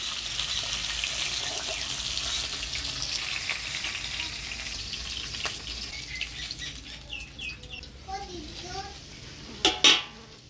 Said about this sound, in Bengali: আজকে মাছের তেলেই মাছটা ভাজলাম।